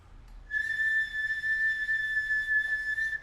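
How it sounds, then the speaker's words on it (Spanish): A pre-Hispanic single-tone whistle replica is blown for about three seconds, a steady whistle tone, clear and close, holding one pitch with slight swells in strength. "Es un silbato de un solo sonido."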